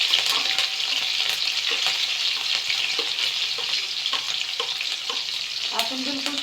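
Mustard seeds, cumin and green chilli sizzle and fry in hot oil for noodles, a steady close crackle broken by sharp pops and occasional stirring clinks, with no talking.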